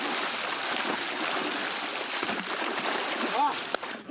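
Townspeople plunging one after another into an icy lake after a holiday church service, with broadband splashing and churning water throughout and a crowd murmuring underneath.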